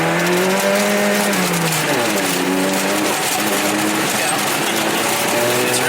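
A Toyota MR2 race car slides on a track, its engine droning loudly and continuously with pitch rising and falling as the car drifts, with faint tire scrub underneath.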